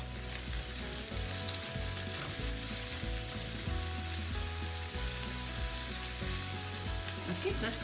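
Turmeric and pepper powder fry in a pan for an Anglo-Indian meatball stew, giving a steady close sizzle with soft stirring scrapes throughout and no talk.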